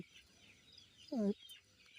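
Coloured broiler chickens in a poultry shed give a single short cluck midway through an otherwise quiet, faint background.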